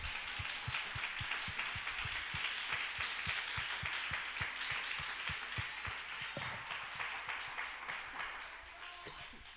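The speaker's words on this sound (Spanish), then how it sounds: "Denle un aplauso, Señor Jesús." A church congregation claps in a steady, even rhythm that sounds fairly quiet and a little distant, with a faint wash of voices under the clapping.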